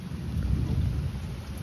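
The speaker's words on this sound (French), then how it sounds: "La pluie est très très forte. Le bruit du tonnerre, pareil." A dense low rumble of thunder rolls under the steady hiss of heavy rain pouring close by during an evening thunderstorm in Metz, France.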